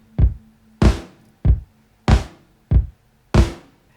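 Kick drum in an indie pop beat alternating with snare hits: six punchy strikes in a steady pattern, deep thumps trading with brighter, snappier cracks, loud and dry with no voices.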